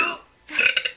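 A girl lets out a long loud burp, a drawn-out rasp that swells into several rough pulses, heard alone at close range.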